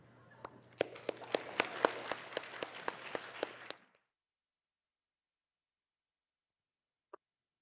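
A small conference audience at the Plurality Research Network gathering claps for a few seconds, sounding sparse and faint, then the room goes silent apart from one tiny click.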